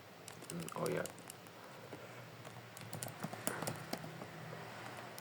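Someone types on a computer keyboard while searching a student database, producing faint, scattered clicks and taps with a brief soft voice near the start.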